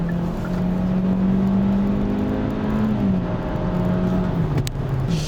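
The new Hyundai Avante in sport mode with the transmission in S, engine revving hard toward redline: a continuous, close, droning engine note whose pitch climbs and then dips around a shift, heard from inside the cabin.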